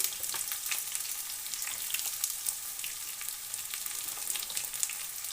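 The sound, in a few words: carrots frying and being stirred with mixed vegetables in pan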